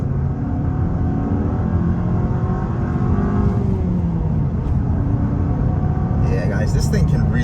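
A 2024 Mazda 3 Premium accelerating in first gear, its engine giving a steady, loud rising drone from inside the cabin while someone talks over it.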